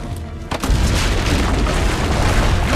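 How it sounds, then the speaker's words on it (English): Cannon fire from the ramparts in Assassin's Creed Brotherhood, a loud deep boom opening a sustained rumbling barrage of heavy blasts that continues throughout the clip. "Use the cannons above the ramparts."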